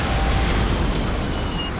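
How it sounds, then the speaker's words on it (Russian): Heavy artillery cannon fire in a historical siege setting: a loud, dense, rumbling blast that fills the short clip with little decay. "Земля дрожала от артиллерийского огня."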